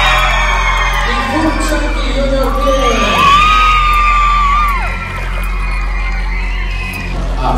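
A dance competition audience cheers and shouts for the winners, a loud wall of children's screams and whoops with rising and falling shrieks over steady music, while an announcer calls out over the noise.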